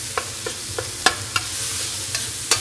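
Ground beef sizzles in a hot pan with a steady broadband hiss, broken by several sharp scraping strokes of a spatula at irregular intervals, close and fairly loud, no voices.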